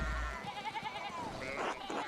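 Sheep bleat in Pentiment, a wavering, quavering call that repeats in a fluttering rhythm, with a voice speaking briefly near the end over a low background hum.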